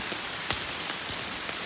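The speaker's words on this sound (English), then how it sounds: "It's still raining." Steady rain patters down through the forest canopy on an Isle Royale backpacking trail, a dense even hiss of drops hitting leaves with a few louder individual splats, close and continuous with no voices.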